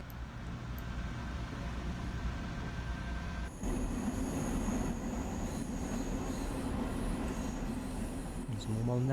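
Long Island Rail Road train in the Train Sim World game, a steady rumbling roll with wheel noise and a brief high squeal near the end, heard without talk.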